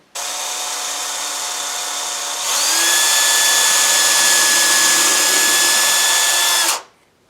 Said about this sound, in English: now we're going to drill those two out